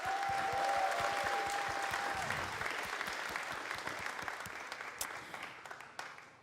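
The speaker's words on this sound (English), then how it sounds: "So please give them a round of applause." An audience applauds a class of children at a Feast of Unleavened Bread gathering, a full, steady wash of clapping that holds strong at first and then slowly thins out, with a brief tone sounding near the start.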